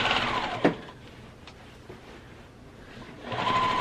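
A sewing machine does straight-line quilting along a seam of a utilitarian quilt, whirring briefly at the start, falling quiet, then running again near the end.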